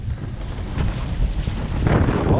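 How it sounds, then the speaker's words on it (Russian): Gusty northern wind over the rough, wavy Pechora river, buffeting a boat and rushing against the microphone in a continuous roar that swells louder toward the end. "Опять ветер северный."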